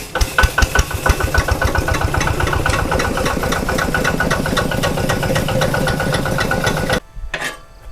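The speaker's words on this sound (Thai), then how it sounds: "ตอนนี้พ่อกับกำลังสตาร์ทรถไถอยู่จ้า" A diesel tractor engine chugs and knocks loudly on starting, its pulses quickening as it catches and settles into a steady rumbling idle, then abruptly cuts out near the end.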